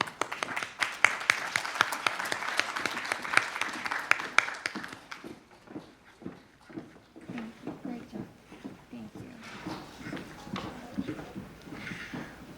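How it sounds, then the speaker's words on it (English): Applause rings out for the members on stage at a Korean community cultural event, starting as brisk scattered clapping that thins into sparse, slower claps, with some voices underneath. "Have a big applause for all the members here on this stage."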